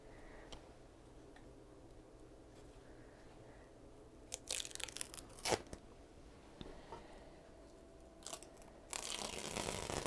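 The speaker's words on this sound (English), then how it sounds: "pulling that tape off just feels right" Tape is peeled off the edges of an oil painting, with several short crackling rips and a longer tearing pull at the end, all close and set against a quiet room.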